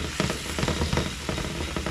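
Onions sauté in a skillet that was just used for ground beef, giving a steady, close sizzle with frequent small crackles and pops and no voices.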